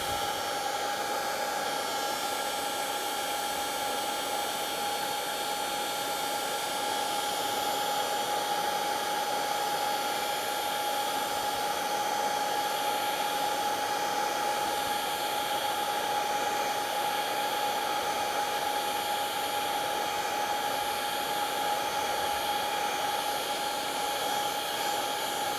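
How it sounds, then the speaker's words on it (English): A heat gun blows steadily and loudly for the whole stretch, drying the wood of a freshly turned whiskey tumbler on the lathe to raise the grain. It is a constant whooshing roar with a thin whine running through it and no talk. "when you're in a hurry, you can always use a heat gun. And we'll dry this out and we'll raise that grain."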